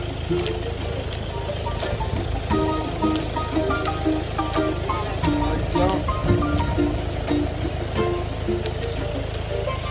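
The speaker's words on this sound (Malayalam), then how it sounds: "മഴയുണ്ട് നല്ല." Steady heavy rain falls in a continuous wash of noise with scattered sharp drop impacts, while voices talk faintly underneath throughout.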